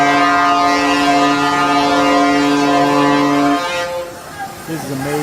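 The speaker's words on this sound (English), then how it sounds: "Listen to the horn on this." A ship's horn blasts a long, loud, deep tonal note that holds for several seconds before cutting off, followed by short voices talking.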